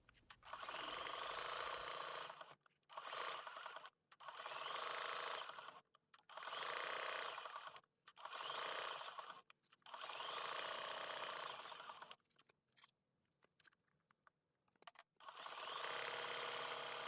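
A sewing machine runs a satin stitch around an appliqué handle on a quilt block, whirring in repeated bursts of two or three seconds separated by short pauses, close and steady.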